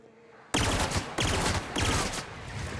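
A pistol fires in the sci-fi video game The Outer Worlds: three loud, sharp shots in quick succession, each followed by a short echoing tail, after a quiet opening; no talking.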